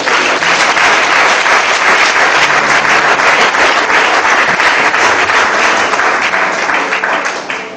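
Loud, dense applause rolls through a church congregation, many hands clapping together without a break for several seconds, the sound only beginning to fade near the end.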